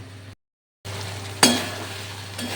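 Masala for rohu fish kasha frying in oil, a soft sizzle that briefly drops out, then returns with a sharp clank of a spoon or utensil against the pan and a lingering hiss.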